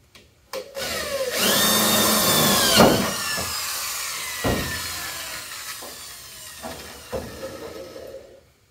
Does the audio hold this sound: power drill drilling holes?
yes